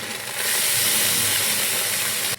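Browned onions sizzling in a pan as ginger and cumin paste goes in, a loud, steady hiss that surges up and holds, then drops off abruptly.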